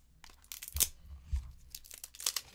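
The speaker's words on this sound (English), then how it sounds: "Just rip it open." Cardboard and plastic packaging of a Barbie Sweet Orchard Farm blind box being ripped open up close, a few short tearing and crinkling bursts separated by brief pauses.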